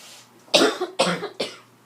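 A person coughs three times in quick succession, close and fairly loud, during a quiet stretch of a math lesson.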